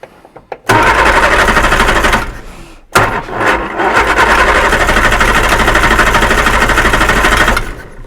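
Reliant Super Van engine running on choke, loud and close: a dense, buzzy idle that cuts out briefly, then catches and settles into a steady rough chatter until it drops near the end.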